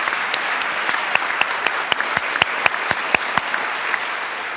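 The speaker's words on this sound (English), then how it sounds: "I expect a whole huge round of applause now" An audience at a faculty convocation applauding, steady dense clapping from a large crowd with a few sharper individual claps standing out, moderately loud and free of speech.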